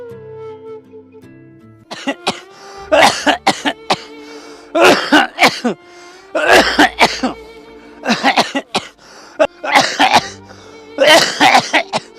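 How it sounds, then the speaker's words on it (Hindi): Loud, harsh coughing fits up close, several bursts in a row with short pauses between, with no talking. "आपको तो बहुत खांसी हो रही है"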